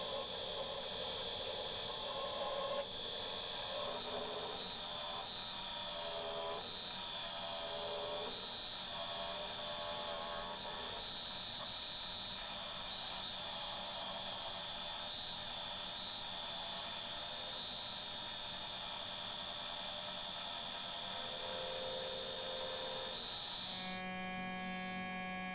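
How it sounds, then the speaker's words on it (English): An air compressor drones steadily in the background of a woodworking shop where a pewter ring pedestal bowl is being made, a faint constant hum with a high whine, no one speaking. "The sound of the air compressor in the background."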